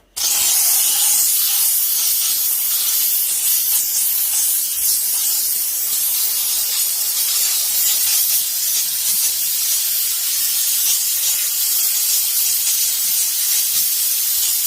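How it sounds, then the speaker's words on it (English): A steam cleaner blasts steam onto the steering wheel of a filthy Mazda Miata, a loud, continuous, close hiss that begins abruptly and holds steady for the whole stretch without talk. "Talk about steam. Look at that thing go."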